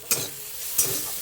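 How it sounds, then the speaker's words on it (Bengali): Red amaranth greens fried in a pan, with two quick bursts of stirring and sizzling over a soft, steady frying hiss. "লাল শাক ভাজা, এটা আমাদের গাছের লাল শাক"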